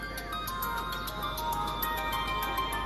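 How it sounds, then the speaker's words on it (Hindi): A phone rings in an office scene, a steady electronic ringtone with a faint repeating high chirp, alone at moderate level for a few seconds with no talk. "किसका फोन है?"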